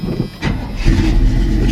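A car engine with a low battery cranks sluggishly for a moment, then catches and settles into a steady, loud idle close up.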